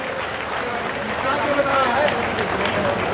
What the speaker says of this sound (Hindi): आप सब तालियां बजाइएगा।